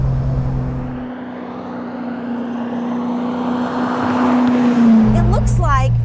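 A 535 hp supercharged V8 in a widened MGB accelerates hard at part throttle, a loud steady engine roar climbing in pitch, with the exhaust note shifting near the end.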